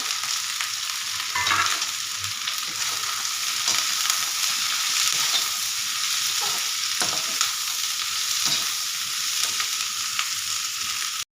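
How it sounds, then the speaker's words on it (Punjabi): Onions frying in hot oil for a bitter gourd tadka give a steady, close sizzle throughout, with a few soft stirring knocks and no talking. "ਕਰੇਲੇ ਨੂੰ ਤੜਕਾ ਲਗਾਉਣੇ ਪਿਆਜ਼ ਪਾ ਦਿੰਦੇ ਸਭ ਤੋਂ ਪਹਿਲਾਂ"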